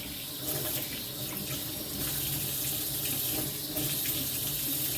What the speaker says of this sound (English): I'm rinsing off my kielbasa.